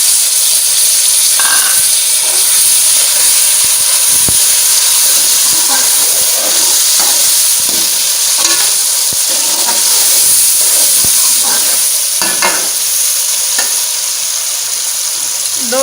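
Chopped tomatoes go into a pan of onions frying until light pink, for a dhaba-style palak chhole, giving a steady loud sizzle and hiss with scattered stirring scrapes throughout.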